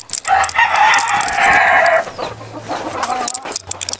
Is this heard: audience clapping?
no